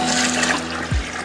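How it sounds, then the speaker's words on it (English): Water rushes and splashes steadily into a garden irrigation system's reservoir, a loud continuous pour with a brief low gurgle near the end. "We're gonna fill the reservoir up with our water."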